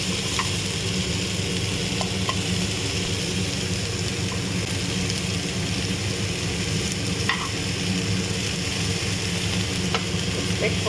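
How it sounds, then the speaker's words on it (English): Onion with a pinch of salt sautéing in a pan gives a dense, continuous sizzle and hiss, loud and close, with a few faint utensil ticks and no talking. "Adding a pinch of salt, which will help the onion to saute faster."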